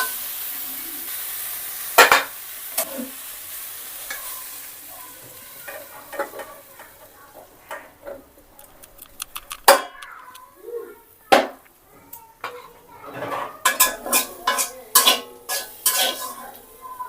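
Vegetables fry in a pan under a faint sizzle while a utensil stirs and scrapes in sharp clacks, sparse at first and then quicker and louder in clustered strikes toward the end.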